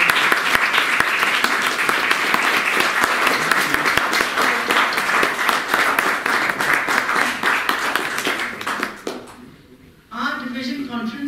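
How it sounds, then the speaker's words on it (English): A conference audience gives a hearty round of applause, dense and steady clapping that fades and stops near the end, followed by a brief voice. "So can we all give them a huge round of applause?"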